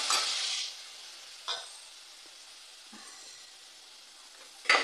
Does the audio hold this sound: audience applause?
no